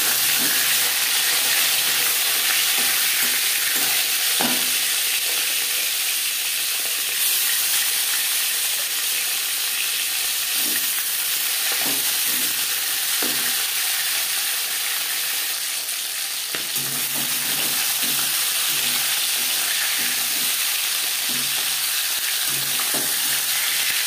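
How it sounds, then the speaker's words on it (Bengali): Fish head coated in salt and turmeric fries in hot refined oil, a steady loud sizzle running throughout with occasional clinks and stirring scrapes, no voices. "মাছের মাথা ভাজবার জন্য পরিমাণ মতো রিফাইন্ড অয়েল গরম করে নিয়েছি।"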